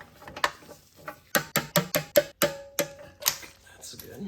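A hand ratchet clicks in rapid, evenly spaced bursts while bolts are torqued down during an engine swap on a BMW F31, close and loud, with brief pauses between the series of clicks.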